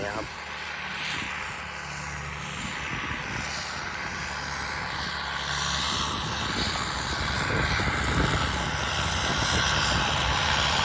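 A heavy New Holland TM120 turbo tractor engine rumbles steadily and loudly up close, with a rough droning roar that builds slightly over time and no pauses.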